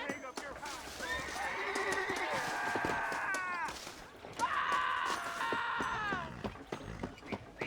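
Horse neighing and whinnying in the Red Dead Redemption video game, two long loud whinnies with harmonic wavering, a few faint hoof clops scattered between them, along with some background voice-like sound.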